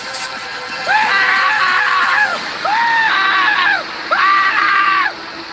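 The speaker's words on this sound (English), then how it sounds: "he began wailing and shrieking as he waved the knife and hammer around sporadically" A man wails and shrieks in three long, loud, rising-and-falling cries with short pauses between them.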